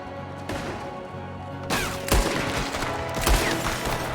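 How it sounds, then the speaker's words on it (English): Gunfire crackles in a Red Dead Redemption 2 shootout, with several loud, sharp shots and bursts rising over a steady background of game sound and music. "There's another one shooting from the window."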